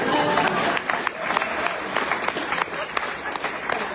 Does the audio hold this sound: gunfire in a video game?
no